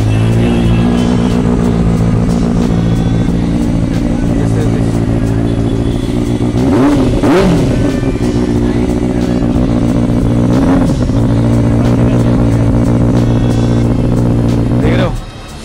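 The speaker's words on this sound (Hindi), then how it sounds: "देख लो स्पोर्ट्स बाइक का साउंड।" A 2016 Benelli 600 sports motorcycle idles loud and close with a deep steady engine drone, rising in a few throttle blips and revs around the middle and end, in an outdoor second-hand bike market.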